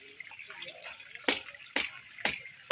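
Water splashes onto a concrete house foundation being cured before bricklaying, heard as a few sharp, separate slapping gushes spaced about half a second apart over a quiet hiss.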